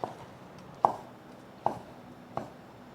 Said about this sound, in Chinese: 把香菇切片